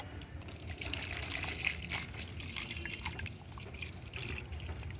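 Dissolved NPK 19-19-19 fertilizer solution is poured onto plants in a rooftop garden, giving a steady close liquid splash and trickle that continues without a break and without talk.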